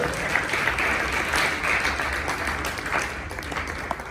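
A church congregation clapping together during a service, a dense, steady wash of applause that holds at an even level for about four seconds with no voices.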